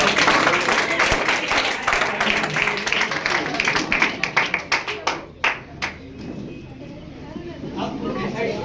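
Loud clapping and applause from a crowd at a farewell party, dense and sustained at first, then thinning into scattered claps before fading, with chatter underneath.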